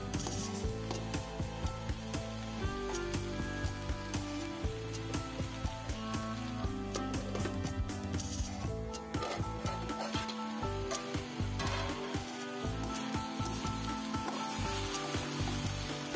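Chopped okra and mulberry leaves for a thoran cook in a pan, giving a continuous close sizzle and crackle with faint rubbing and scraping textures throughout.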